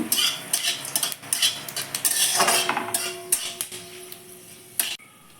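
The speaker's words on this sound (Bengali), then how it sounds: "এবার আমি এই তেলে একটা শুকনো লঙ্কা অল্প করে ফোড়ন দিয়ে ভালো করে একটু নাড়িয়ে নেব" A metal utensil repeatedly scrapes and clanks against a pan while a dried red chili is stirred in hot oil, with a faint sizzle beneath the irregular close strikes.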